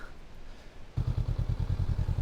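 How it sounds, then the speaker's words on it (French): A motorcycle starts off beside a tunnel carved into rock in the Vercors, with the engine suddenly kicking in midway and settling into a close, low, rhythmic chug. "je vais remonter sur ma moto maintenant."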